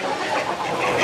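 Desi hens on a poultry farm cluck in a brief, busy flurry of overlapping calls, fairly close and steady, with no talk.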